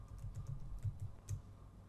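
Quick, light keystrokes on a computer keyboard, about a dozen soft clicks tapped in an uneven rhythm over a low steady hum, close and quiet, with no talking.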